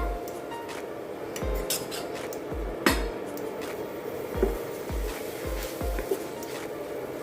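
A metal spatula knocks and scrapes against a pan while veg fried rice is stir-fried with soy sauce and vinegar, with steady, regular clanks roughly every half second over a low background sizzle.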